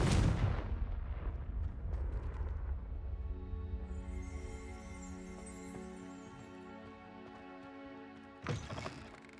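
Confringo fire spell explosion in the video game Hogwarts Legacy: a heavy booming blast opens, then a long ringing, shimmering tail fades over several seconds before a short second burst near the end.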